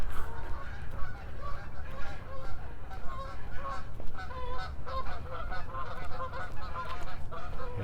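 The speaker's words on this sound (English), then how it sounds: "The geese are definitely thinking about flying somewhere." A flock of geese by a lake honks continuously, many overlapping calls close and loud, forming a dense, restless chorus with no pauses.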